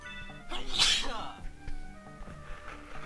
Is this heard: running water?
no